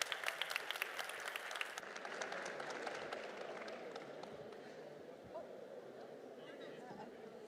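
Audience applause for a panel being welcomed on stage at an urban design event in a museum, steady crowd clapping that is loudest at first, then thins and fades into murmuring.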